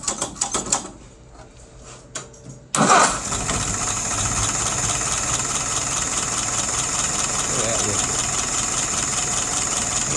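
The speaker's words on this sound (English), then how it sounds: "Let's go ahead and fire it up." A Diedrich WO 539S engine fires up after a short quiet spell of faint clicks, catching loudly about a third of the way in, then settles into a steady, close idle that runs to the end.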